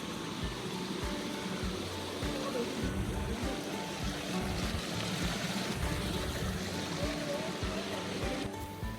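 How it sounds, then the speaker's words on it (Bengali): Small waterfalls along the Khoiyachora stream pour steadily, a constant broad rushing wash that holds an even level throughout, close and continuous with no break. "এই ছোট ছোট ঝর্ণার সাউন্ডগুলি আমার কাছে খুবই ভালো লাগে"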